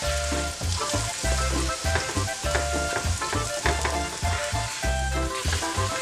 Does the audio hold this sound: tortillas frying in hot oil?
yes